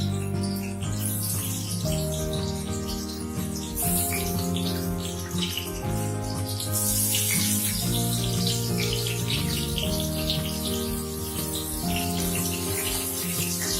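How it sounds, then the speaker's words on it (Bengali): Pieces of pointed gourd fry in hot oil over a medium-high flame, giving a dense, steady close sizzle that holds loud and unbroken throughout, with a faint tonal hum underneath. "তেল গরম হয়ে গেছে, এখন আমি পটলগুলো দিয়ে দিলাম।"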